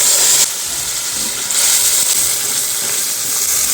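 A paste of two tomatoes and an inch of ginger hits hot oil and fries with a loud, bright hiss that dips briefly and then surges again.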